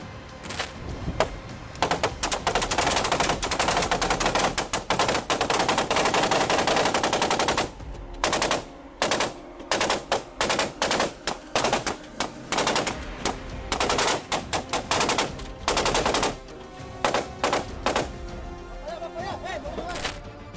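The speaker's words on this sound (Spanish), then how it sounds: "la respuesta de las autoridades llegó en la forma de cientos de cartuchos de rifle de asalto, que viajaron en dirección al vehículo" Dense bursts of automatic assault rifle fire in a shootout between soldiers and armed cartel gunmen, loud sustained volleys in the first seconds, then rapid, broken strings of shots with short gaps, no talk over it.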